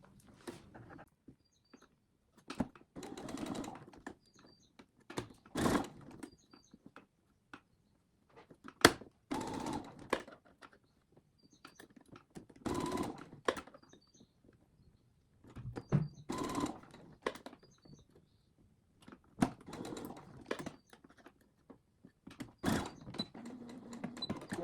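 A sewing machine stitches small pleats along an apron hem in short, intermittent runs separated by pauses, fairly quiet and close, with no talking.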